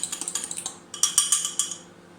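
Metal utensil clinking and scraping against a dish while stirring microwaved scrambled eggs, a quick run of light taps followed by a few louder knocks, close and alone.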